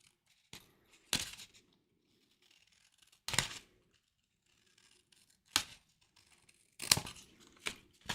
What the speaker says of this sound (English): Just trimming it off, running the scissors along that line.